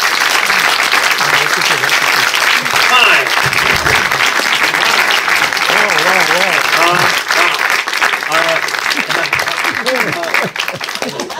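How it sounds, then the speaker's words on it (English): A packed Paris cinema audience applauds for filmmaker Jim Cummings, loud sustained clapping that fills the room throughout, with voices and cheers rising over it. "Applaudissez-le pour qu'il puisse le voir."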